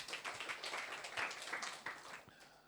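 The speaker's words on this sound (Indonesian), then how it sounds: "Tepuk tangan buat Tuhan Yesus." A church congregation at a Sunday worship service applauds in praise, a soft, dense patter of many hands that stays fairly faint and distant throughout.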